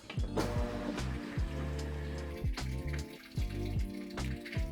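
Water runs and splashes inside a washing machine on a regular wash cycle, with swishing surges and mechanical thumps repeating at intervals nearby, and no speech.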